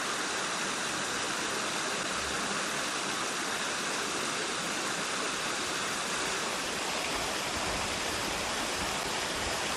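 Water pours over the Dundee Diversion Dam on the Arkansas River in Kansas, a loud, steady roar that holds constant throughout.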